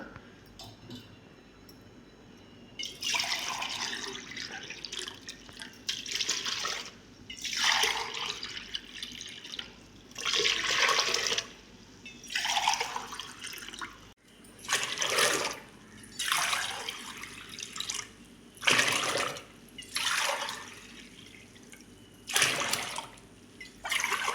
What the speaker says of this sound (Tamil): இதுக்கு 7 கப்பு தண்ணி ஊற்றிக்கலாம்